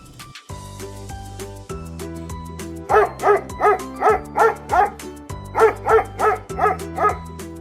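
A dog barks in a run of about ten sharp, evenly spaced barks, loud and close, over a steady backing of simple synthesized music.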